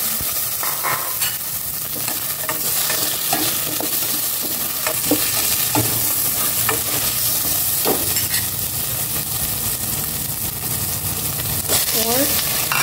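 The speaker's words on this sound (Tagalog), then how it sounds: "gisa ko na rin po." Pork sizzles steadily in a pan while being sautéed, with scraping and clanking stir strokes and a soft voice briefly in the background.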